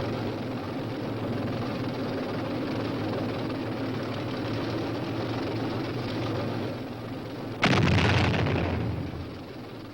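A simulated direct hit on an M48 Patton tank in a training exercise: steady loud engine and track rumble, then a sudden sharp broadband blast near the eighth second that rings on for about a second and a half before the rumble resumes.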